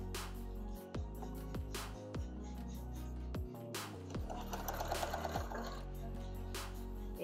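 A sewing machine stitches a narrow seam to hold velcro in place on a homemade bicycle bag, heard as short, close mechanical bursts with pauses and clicks between runs of stitching.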